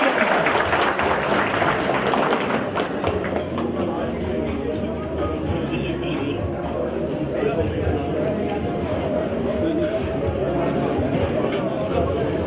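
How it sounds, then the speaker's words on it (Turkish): An audience at a political iftar gathering in Bursa applauds as a parliamentary candidate is called to the stage. The dense clapping is strongest at the start, then eases into a lighter patter beneath a voice over the speakers. "Şöyle güçlü bir alkışla kendisini davet ediyorum"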